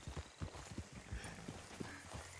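Donkey hooves clop in a quick, uneven rhythm in the RedM roleplay video game, fairly quiet and close, with no speech over them.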